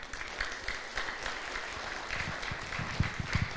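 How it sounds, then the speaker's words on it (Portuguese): A church congregation claps during a Portuguese-language worship service, a moderate, somewhat distant patter of hands with a few sharper claps toward the end. "Aplauda o Senhor."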